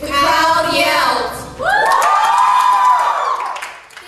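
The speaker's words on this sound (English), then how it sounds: "The crowd yelled." A crowd of high school drama performers yells on stage, two loud sustained bursts of shouting and cheering voices, the second swelling and then fading out.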